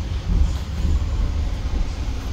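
The Logawa passenger train, bound from Purwokerto to Ketapang Banyuwangi, rumbles deep and steady at Purwosari station, its wagons giving a low continuous roll with faint clatter close by.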